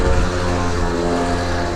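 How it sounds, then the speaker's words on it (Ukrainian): Strong wind roars and buffets steadily, a dense low rumble that persists without pause throughout. "Вітер капець, сподіваюсь, вітрозащита гарно працює."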